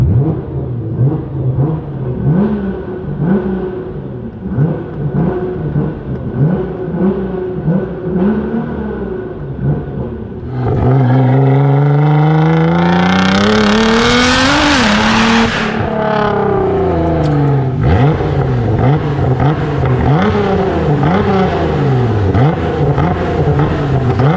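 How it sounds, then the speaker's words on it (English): A Nissan GT-R R35 running flex fuel idles in neutral, then its engine is revved hard, climbing to a loud, high whine before dropping back to a throaty, uneven idle, with no exhaust pops. "Putting the car into neutral, let's rev it up a little bit."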